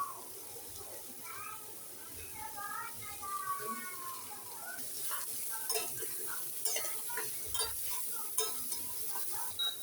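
Sauce goes into soybean chilli in a pan and gets stirred, with scraping spoon strokes, light sizzling and clinks of cookware. A person talks over much of it, and a voice is heard at the start.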